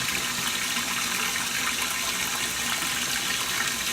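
A GE GTW680BSJWS top-load washing machine fills its tub with water during a tub clean cycle, a steady, loud rushing hiss of inflowing water running without a break and with no talking.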